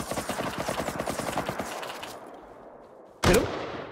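Rapid automatic AK rifle fire in an online shooter video game, a dense burst of fast, even shots for about two seconds, then a pause and one loud, sharp final report up close.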